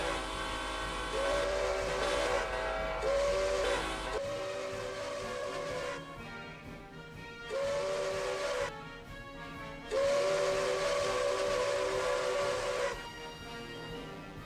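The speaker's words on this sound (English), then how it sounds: "This is the Milwaukee Road S3484 Northern Type steam locomotive built by the American Locomotive Company, or ALCO." Milwaukee Road S3 Northern Type steam locomotive built by ALCO, in the Roblox game Ro-Scale Southline District, sounds its chime whistle in several long blasts and a couple of short ones, loud and close, with rail noise between.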